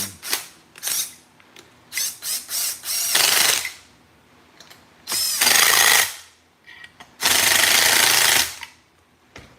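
A ratchet wrench tightens bolts on a Stihl 064 AV chainsaw under repair: loud, close clicking bursts in quick succession, then three longer sustained ratcheting runs separated by pauses, with no talking.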